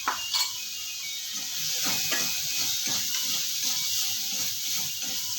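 Onions sizzle steadily in hot oil as they brown for a mutton curry, a continuous close hiss with a few stirring scrapes and clinks of the pan, no voices.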